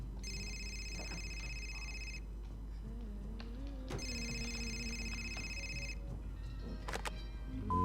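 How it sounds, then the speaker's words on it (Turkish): A telephone rings in the video game Fahrenheit Indigo Prophecy, sounding two long electronic ring bursts separated by a pause, over a low steady hum and faint background noise. "Telefon nerede?"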